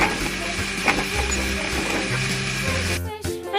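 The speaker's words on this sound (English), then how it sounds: "Put it in our blender. Put the lid on. And let's blend it." An electric blender whirs and grinds as it blends cut fruit into orange juice. The motor drones steadily with rattling chunks, and the pitch shifts near the end as the blend changes.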